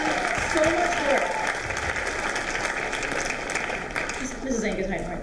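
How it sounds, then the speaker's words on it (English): An audience claps steadily in a school hall during a writers' week event, with voices talking faintly underneath the continuous applause. "can we all give a round of applause for Mrs. Ank and Mr. Anderson?"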